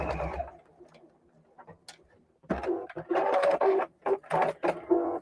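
A sewing machine runs a straight stitch over stretched shirring elastic on a skirt waist, short stop-start bursts of whirring after a quiet pause, close by.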